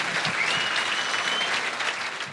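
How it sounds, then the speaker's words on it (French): Steady, dense applause from a business summit audience celebrating the region's long-established companies, even and moderately distant, with a brief cheer and no clear talk. "on peut déjà applaudir la région"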